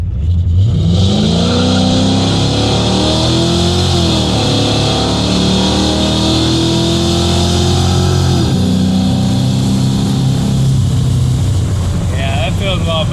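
A Mach 1 car accelerating hard on a test drive, the engine roaring loudly from inside as the pitch climbs through gear shifts, with wind noise and a voice mixed in.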